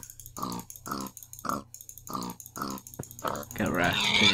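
Pigs in the Minecraft Tekkit game give a series of rhythmic grunts and oinks, one after another, close and clear, ending in a louder squeal.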